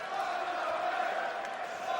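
A darts crowd of more than 4,000 at the PDC Players Championship Finals roars and cheers as a continuous, distant wash of voices.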